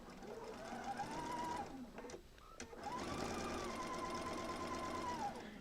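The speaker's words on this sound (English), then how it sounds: "and start sewing" A sewing machine stitches quilt blocks for an Old Maid's Puzzle quilt, running steadily for about two seconds, pausing briefly with a few clicks, then whirring again in a longer continuous run, close and clear.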